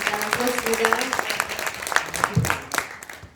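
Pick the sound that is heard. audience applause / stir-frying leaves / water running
audience applause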